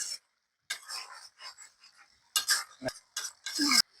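Spices being stirred into a cooking pot of shrimp and fig curry, a run of short scraping and clinking spoon strokes against the metal with brief pauses between them, close by and fairly quiet, with no talking.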